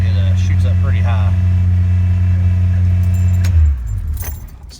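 A Jeep ZJ engine idles slightly high with a hand throttle engaged, a steady low droning hum that holds evenly, then shifts and drops off near the end as keys jangle and a voice speaks briefly.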